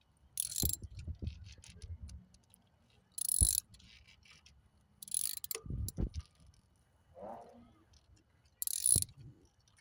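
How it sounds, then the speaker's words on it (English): A ratchet wrench turns a nut while replacing the coolant thermostat on a truck, giving several short bursts of close, crisp clicking separated by pauses, with soft knocks and handling noise in between. "It's a ratchet, so it's nice and tight over there."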